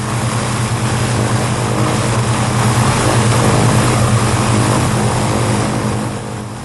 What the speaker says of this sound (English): the aircraft comes straight and level again and flies on